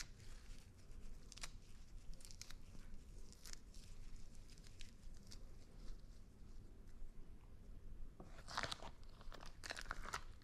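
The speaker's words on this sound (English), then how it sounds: "this is some fresh basil that we'll just rip up with our bare hands" Fresh basil leaves are ripped apart by hand, giving soft crisp tearing and crunching sounds in close, quiet bursts, with a louder cluster of rips near the end.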